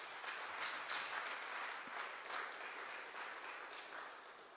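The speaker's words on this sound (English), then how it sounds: "I do think we have to give ourselves another round of applause" An audience at a community health event in Florida claps in a steady, fairly faint round of applause that runs throughout without a break.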